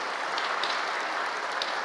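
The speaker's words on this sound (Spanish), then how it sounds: "Dele aplauso." Sustained applause from a large audience at a Catholic men's conference, a continuous crackling patter of many clapping hands with scattered crisp claps on top, moderately loud and steady throughout, no talking.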